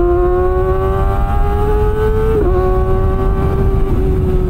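A Kawasaki Ninja ZX25R 250cc motorcycle engine drones loudly and steadily while riding, its pitch rising slowly, then dipping at a quick-shifted gear change before settling back, under constant wind and road noise.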